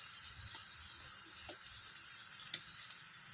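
Asafoetida dropped into hot oil for Chennai-style gongura chutney gives a steady, close sizzle with a few faint pops and crackles, no voices.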